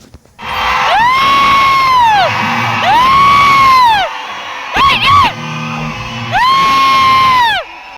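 A cinema hall audience shouts and cheers loudly for an actor's appearance at a movie screening, rising in long, whooping yells and bellowing waves with brief pauses between surges.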